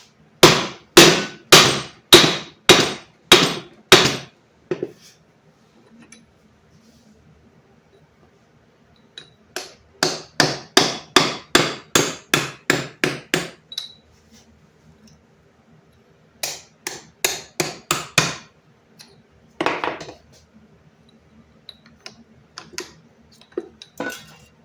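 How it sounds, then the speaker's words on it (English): A small metal chisel is tapped upward to pop apart a part, ringing out in quick bursts of sharp, evenly spaced metallic taps with pauses between the runs, close and loud with no talk. "You may have to take something like a small chisel and tap upward on it."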